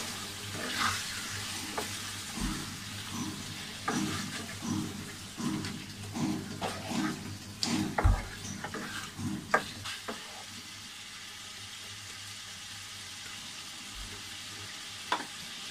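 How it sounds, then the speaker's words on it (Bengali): Meat frying in spice paste, sizzling and stirred in bursts of scraping for about ten seconds, then settling into a softer, quieter sizzle with a couple of faint knocks. "আমার মশলাটা কষানো হয়ে গেছে, এখন আমি মাংসটা ভেজে দিলাম"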